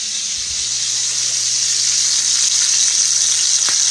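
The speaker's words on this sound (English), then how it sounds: "Our little filet is cooking." Catfish fillet frying in a pan, a loud, steady, close sizzle with constant crackle and no voices, holding even from start to finish.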